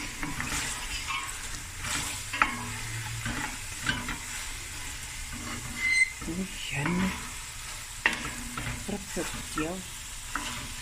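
Masala spices frying in a curry pot with butter beans and lamb, stirred repeatedly. There is a soft, steady sizzle with irregular scraping and clinking strokes, close and moderately quiet, with faint voices now and then.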